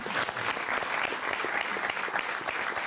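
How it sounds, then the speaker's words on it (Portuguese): Dense, steady applause from a studio audience fills a televised music show, clapping for an accordion player for a few continuous seconds. "Salva de palmas para o Fábio."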